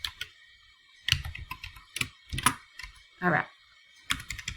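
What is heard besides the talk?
typing on a computer keyboard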